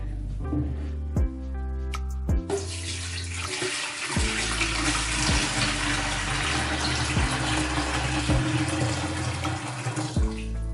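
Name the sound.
water being poured into tank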